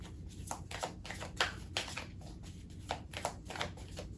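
A deck of angel cards being shuffled by hand, a soft riffling and flicking repeated in quick bursts, close and quiet with no talk.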